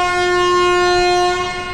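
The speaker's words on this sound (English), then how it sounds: "The doors are actually open while the train is starting to move." A passenger train at Delhi's Nizamuddin station sounds a loud, sustained horn as it starts to pull out, a steady, close blast that fills the entire moment.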